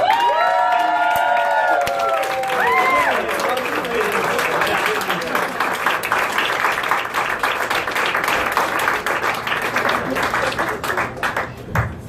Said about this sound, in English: Big round of applause for Mark Sluban